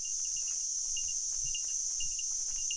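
Cicadas in a Hokkaido forest keep up a constant high, shrill buzz with faint chirps pulsing through, steady and moderately distant.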